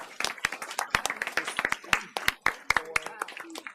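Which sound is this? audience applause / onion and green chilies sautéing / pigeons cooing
audience applause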